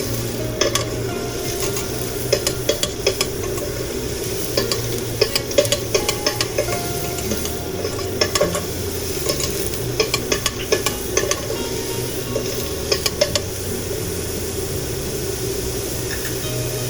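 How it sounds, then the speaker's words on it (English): Chili and onions fry in oil under a constant sizzle. A spoon scrapes and taps against the pan in repeated bursts as the mixture is stirred throughout. "Stir it nicely till it is coated with all the oil, and the oil helps the chili and the onions to cook."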